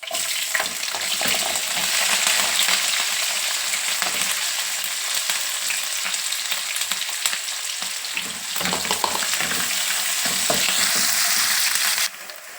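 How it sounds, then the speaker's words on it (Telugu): Onion and green chilies fry steadily in hot oil, a continuous dense sizzle with faint stirring scrapes, close and loud throughout, dropping slightly at the very end. "ఉల్లిపాయ పచ్చిమిర్చి వేగింది కదండి"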